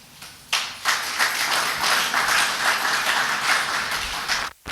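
Audience at a Congolese political gathering breaks into applause after a quiet start, building to a dense, even clapping that continues before cutting off abruptly near the end.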